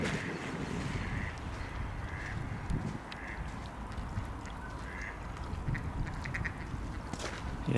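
Ducks quack repeatedly in short bursts at a moderate distance by a hole in melting winter ice, over a steady outdoor wash of wind and water noise.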